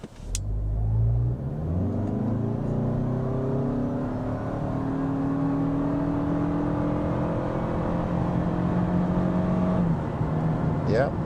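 A 2025 Toyota Camry SE hybrid floored at full throttle in sport mode, its engine rising in a steady climbing drone with a slow upshift shift near the end, loud and continuous inside the cabin.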